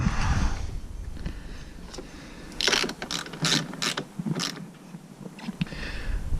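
Ratchet wrench tightening a nut onto a negative battery wire terminal over a washer and lock washer, during a dual battery tray install; several bursts of quick close clicks in a quiet space, no talk.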